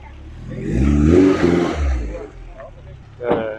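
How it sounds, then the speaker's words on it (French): A Zagato prototype car at the Villa d'Este concours d'élégance firing up, with a close, loud engine swelling into a rev that fades and then blips again briefly near the end. "Le Zagato qui va démarrer."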